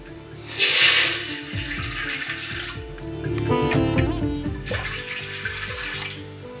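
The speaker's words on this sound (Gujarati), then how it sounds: "થોડું પાણી મૂકીશું, તેની અંદર ગોળ ઉમેરીશું" Water pours into a pot in loud splashing bursts for making lapsi, easing off briefly in the middle before a second pour.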